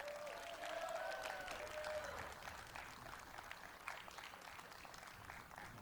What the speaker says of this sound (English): Let's give Neal a round of applause, everybody